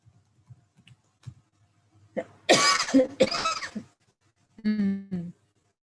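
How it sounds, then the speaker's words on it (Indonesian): Two loud, raspy coughs in quick succession after a few faint clicks, followed by a short vocal sound. "Maaf, saya batuk."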